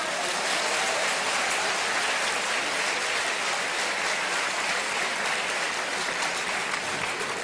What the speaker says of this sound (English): give him another clap for that